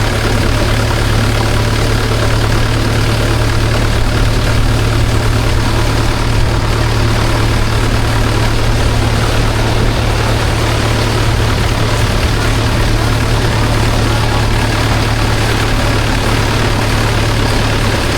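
A tractor engine runs steadily during a ride, a continuous low rumbling drone that stays loud and even throughout with no voices over it.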